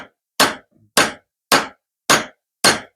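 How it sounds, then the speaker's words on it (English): Five sharp metallic hammer taps on a socket seat a 3-point hitch seal on a New Holland TN70A tractor, evenly spaced about half a second apart, close and crisp. "we're just tapping it down real gently with a socket."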